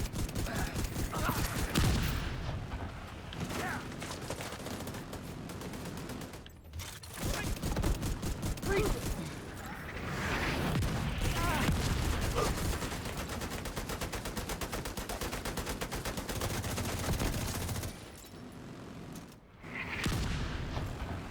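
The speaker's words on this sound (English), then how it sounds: "The autocannon seems to be firing blind." Autocannon in a video game firing sustained bursts of rapid, heavy thumping rounds, loud and dense throughout with brief pauses between volleys.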